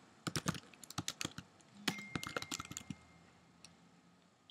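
Text is typed on a computer keyboard, with crisp irregular key clicks in quick bursts and brief pauses, close-up and fairly quiet, with no speech.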